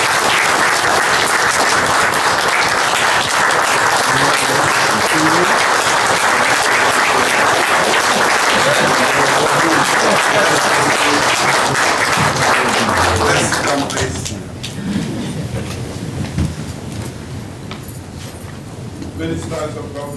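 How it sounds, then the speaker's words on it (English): Loud, sustained applause from a large crowd at a Sierra Leone citizenship ceremony, greeting the President, steady for about fourteen seconds before thinning out into scattered claps and murmuring. "A round of applause for His Excellency the President."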